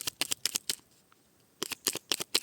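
Tarot cards shuffled and handled in two bursts of crisp riffling and slapping, close and fairly loud, separated by a quiet pause of about a second.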